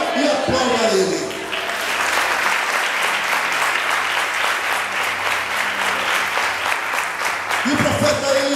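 A church congregation bursts into loud, sustained applause that lasts about seven seconds, with a voice speaking just before it starts and again as it ends.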